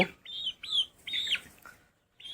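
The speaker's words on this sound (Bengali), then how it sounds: "এই যে একটা মুরগি ধরছি" A chicken clucks and squawks in several short, loud bursts while it is caught on a farm for weighing, with brief pauses between calls.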